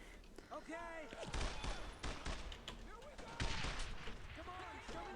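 Rapid bursts of gunfire and sharp shot cracks from the World War II video game Brothers in Arms: Road to Hill 30, fighting through the streets of Carentan, repeating in loud clusters under someone talking throughout.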